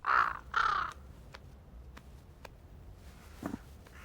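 Hungry crows gathering in a flock give two loud, harsh caws close together, followed by faint scattered calls and a soft rustle over quiet background.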